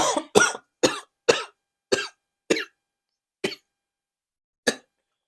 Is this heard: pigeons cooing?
no